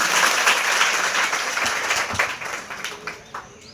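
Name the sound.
audience applause for a student speaker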